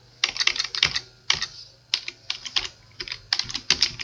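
Rapid bursts of keystrokes on a computer keyboard as a search term is typed into a search box, several quick clusters of clicks with brief pauses between them, close and clear with no talking.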